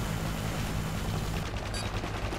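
Dense, continuous gunfire from a Call of Duty: Modern Warfare 3 multiplayer match, loud and unbroken throughout with rapid overlapping shots and no speech.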